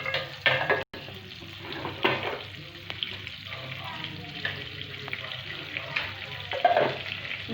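Oil and a generous amount of butter sizzling in a pan for pav bhaji, a steady close crackle with occasional clinks and scrapes of a utensil.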